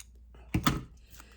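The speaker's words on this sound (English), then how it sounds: "I'm going to take this copper circle, I'm going to cut it in half." A copper circle is cut in half with a couple of sharp, close metallic snips in quick succession, each a brief crisp crunch, followed by quiet.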